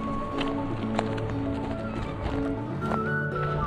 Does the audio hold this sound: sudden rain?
no